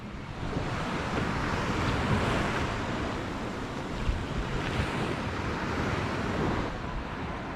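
Ocean surf at Senggigi beach on Lombok, where fishing boats line the shore: a continuous, fairly loud wash of breaking waves mixed with gusty wind buffeting the microphone, with no voices.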